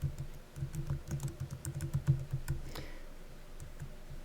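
Close, moderate keystrokes on a computer keyboard come in a quick, steady burst of typing, then trail off into a few scattered taps in a quiet room.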